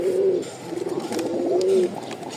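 A Rajshahi Giribaz flying pigeon, likely a male kept alone, gives a steady, close, fairly loud cooing call of low rolling coos in a couple of sustained phrases, with no talk over it.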